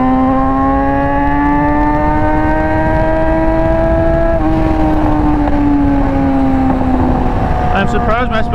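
A motorcycle fitted with red underglow drones steadily on the move, its engine tone rising and falling with the revs. A rider talks over it throughout, and a few faint clicks come near the end.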